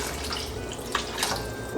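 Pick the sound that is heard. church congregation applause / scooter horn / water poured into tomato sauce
water poured into tomato sauce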